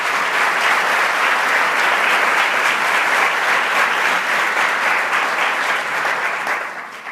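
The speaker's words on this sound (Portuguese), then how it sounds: "Vamos dar uma salva de palmas à palavra do Senhor." A church congregation applauds in steady, dense clapping that fills the space for about seven seconds, loud and continuous before easing off slightly at the end.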